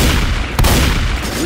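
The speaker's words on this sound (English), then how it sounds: "You're shooting me again." Gunfire in Left 4 Dead 2, a zombie co-op shooter, bursts out as a rapid volley of sharp, loud shots with one especially hard crack, close up amid layered game noise.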